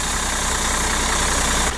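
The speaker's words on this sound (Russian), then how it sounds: "Volvo запустилась без проблем." A Volvo FH12 truck's diesel engine idles just after starting, a steady low rumbling drone with an even rhythmic throb, close and loud, with no voices.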